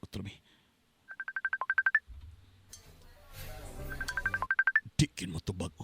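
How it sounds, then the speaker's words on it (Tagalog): A telephone keypad dialed twice: two quick runs of about a dozen evenly spaced DTMF beeps each, clear and close, with a low hum and a voice speaking between the runs. "Tawagan ako, Trumi."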